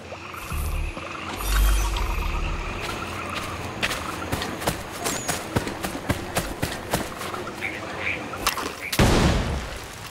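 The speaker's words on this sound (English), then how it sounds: "Perhaps some gunpowder would move it. A nice big explosion, eh?" Gunpowder blasting stone in Assassin's Creed III: a rapid run of sharp cracks and clatter builds to a single loud, broad explosion near the end, with game speech and ambience around it.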